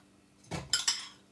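Frozen pineapple pieces drop into a blender jar with three quick hard clunks and clinks in close succession, short and fairly faint against a quiet background.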